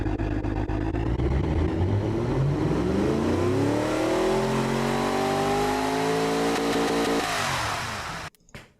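A loud engine of a 1,400-horsepower all-wheel-drive Mini in a video game revs up, its pitch climbing steadily as it accelerates, close and continuous, then cuts off abruptly near the end.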